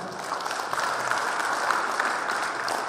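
A seated audience at a hometown association's leadership inauguration ceremony claps for several seconds, dense steady applause filling the hall at an even level.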